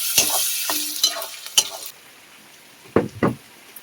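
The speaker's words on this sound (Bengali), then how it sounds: "এবারে রসুন কুচিগুলো দিয়ে আবার পেঁয়াজের সাথে ভালো করে ভেজে নেব।" Chopped garlic fries with onions in hot oil, giving a crackling sizzle with sharp stirring scrapes and knocks. The sizzle fades to a low hiss midway, then two more loud stirring strokes follow, close and clear with no talking.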